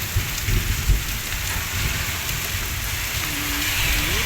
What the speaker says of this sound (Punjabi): ਗੜੇ ਪੈ ਰਹੇ ਆ